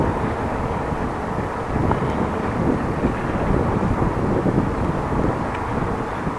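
Steady, close wind roar buffeting the microphone while riding a bicycle on a very hot day in the Netherlands, a continuous broadband rush with no talk.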